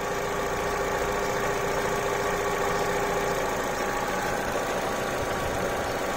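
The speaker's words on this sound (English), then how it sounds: "when I turn it the engine note changes because it's altering the fueling" A Vauxhall Corsa engine with a misfire idles steadily with a dense, constant rumble, its tone shifting slightly partway through as the fueling is altered; loud and close, no voices.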